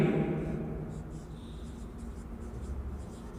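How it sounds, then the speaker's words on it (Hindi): Chalk or marker scratches faintly across a board as a definition is written out for an algebra lecture, soft intermittent strokes over a low room hum with no talk. "मैं आपके सामने इसकी डेफिनेशन लिखता हूँ।"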